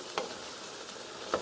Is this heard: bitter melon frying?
yes